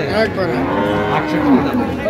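A cow gives a long, loud, nearby moo at a busy livestock market where cows and calves are being sold, with faint crowd chatter in the background.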